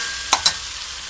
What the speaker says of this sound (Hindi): अब हम इसमें ये लहसुन अदरक मसाले शामिल करेंगे